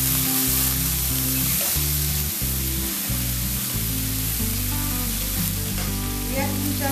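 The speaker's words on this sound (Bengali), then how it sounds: "গোটা জিরে ফোড়ন দেওয়ার পর এটাকে একটু নাড়াচাড়া করে নিয়ে আমি এর মধ্যে দিয়ে দেব পেঁয়াজ কুচি" Cumin seeds and chopped onion sizzle in hot oil while being stirred, giving a loud, unbroken hiss over background music.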